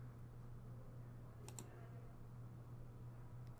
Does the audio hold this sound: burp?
no